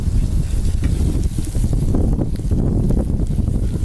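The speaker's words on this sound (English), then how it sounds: "Saute the onion briefly. Add in just a little bit of garlic. Saute it in." Onion and garlic sauté in a hot pan with a steady, loud sizzle and the scrape of stirring throughout, no voices present.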